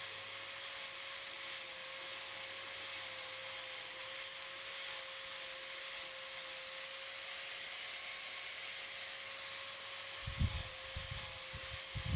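Steady, faint sanding rubs smooth a homemade kite thread winder, a continuous abrasive hiss with a low hum beneath and a few louder knocks near the end.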